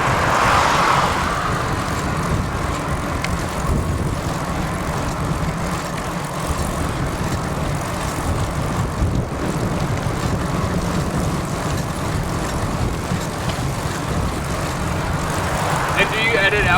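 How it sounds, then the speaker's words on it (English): Steady broad roar of vehicles passing outside on a nearby road, continuous and fairly loud for the whole stretch, with a low engine-like drone underneath; no talking. "I'll talk after this traffic goes by."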